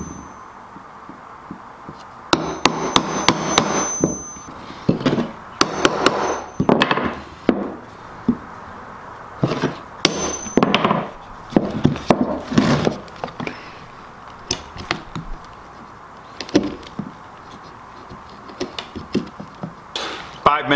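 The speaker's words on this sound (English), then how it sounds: "use a chisel to get to that line" Chisel driven by hammer blows into wood while shaping a bowl clamping jig, giving irregular sharp knocks and chopping strikes spread across the clip, some in quick clusters, fairly close.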